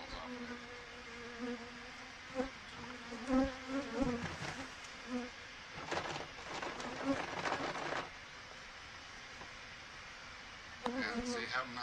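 Honey bees buzz steadily around an opened hive that has wild comb built across the top, a close, dense droning swarm with shifting pitch, and a person talks intermittently over it.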